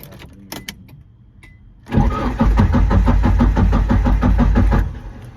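A 1993 Nissan 240SX S13 engine cranks loudly and steadily after a quiet pause, the starter turning it over in a fast, rhythmic chug for about three seconds before stopping; there is no talk.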